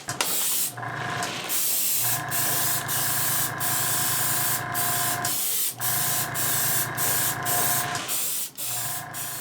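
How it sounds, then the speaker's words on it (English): A high volume trigger airbrush spraying high gloss top coat onto a 3D print, loud continuous hissing bursts with a steady compressor hum, cut by brief pauses between passes. "tonight I'm just breaking out my high volume airbrush, my trigger airbrush"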